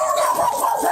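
A dog gives a short, loud yelping bark or whimper, close by, lasting about a second.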